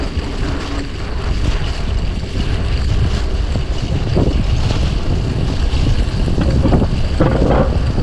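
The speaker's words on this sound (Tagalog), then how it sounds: "Mahangin ngayon ah. Sobrang hangin." Strong wind roars steadily against the microphone, a loud continuous rumble with gusty swells throughout.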